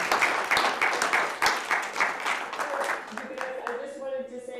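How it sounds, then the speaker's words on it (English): Scattered clapping from a small audience at an online Creative Brain Week session rises in uneven bursts, fading as a faint tone and background voice emerge toward the end. "So I'd like a round of applause for them all."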